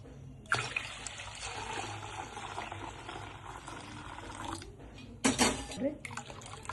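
Water trickles and pours into a vessel of soy milk in a steady stream, with brief clinks of a pot and a louder splash near the end.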